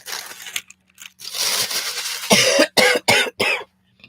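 A burst of dry coughs up close, first a rough stretch then four sharp separate coughs in quick succession, with quiet pauses between.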